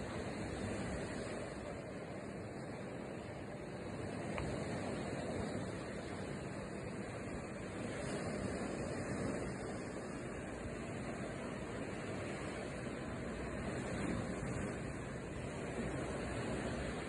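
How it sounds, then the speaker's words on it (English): Sea waves wash steadily onto the shore at Malaga, a continuous broadband surf roar with gentle swells, fairly close and constant for the whole stretch. "Listen to that sound of that sea."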